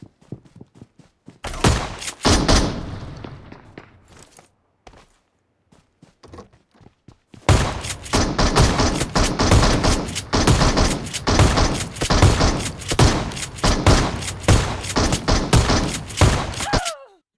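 Gunfire in PUBG Mobile: a few scattered loud shots, a near-silent pause, then a long close-range barrage of rapid, dense gunshots.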